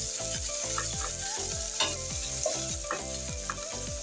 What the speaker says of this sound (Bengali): নেড়ে ছেড়ে পেস্টটা ভালো করে ভেজে নেব।